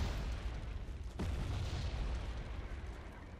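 Cluster artillery rounds exploding in the real-time strategy game Wargame Red Dragon, heard as a constant low rumbling barrage with one sharper crack partway through, distant and fairly faint.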